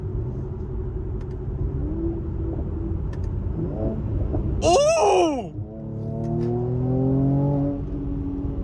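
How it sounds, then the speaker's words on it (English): A Mercedes-AMG C43 (W205) with the AMG performance exhaust drives at night, a low engine rumble rising and falling with a sharp burst and crackle partway through, while a person in the car lets out an excited exclamation. "it is optioned with the AMG performance exhaust, which does make it sound a lot better"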